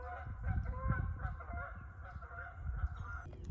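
Geese honk continuously in a noisy, overlapping chorus over a low outdoor rumble, fairly close and steady throughout.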